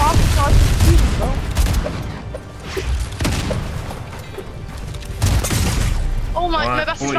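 Fortnite gunfire crackles in dense bursts and booms throughout, loud and continuous, layered under excited talking from players.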